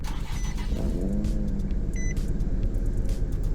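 An Infiniti G35 engine in a video game cranks and catches, then settles into a steady, loud low rumble with a faint electronic beep.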